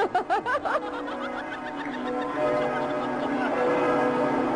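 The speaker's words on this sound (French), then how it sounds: "Henri, même les cloches de la cathédrale Notre-Dame semblent heureuses" Laughter and a chuckling voice open, then the bells of Notre-Dame Cathedral ring out, their tones layering and sustaining as the peal continues.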